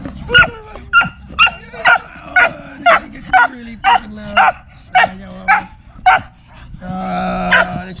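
A dog barks repeatedly in a steady series of loud, close yips and woofs, with brief whimpering between barks, outdoors during a Songkran festival day on Koh Samui, Thailand.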